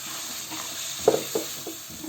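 Water added to a fish curry frying with onion, garlic and spices, a short sizzle and bubbling hiss with a few brief splashy bursts over a steady frying background.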